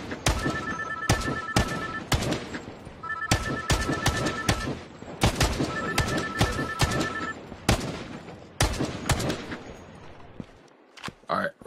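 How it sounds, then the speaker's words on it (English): An ops phone rings in the video game Operation Off Zero, a repeated electronic double-tone ring in three bursts, heard beneath loud, sharp bursts of gunfire that crack throughout. "Was that the ops phone?"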